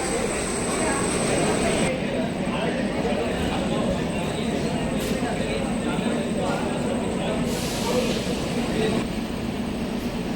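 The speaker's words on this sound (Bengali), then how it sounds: "আমাদের ট্রেন বহরমপুর ছেড়ে দিলাম।" A Humsafar Express train runs on the rails between Berhampore and Murshidabad, heard as a continuous loud rolling rumble with a faint rhythmic clatter, like sound from inside a moving coach.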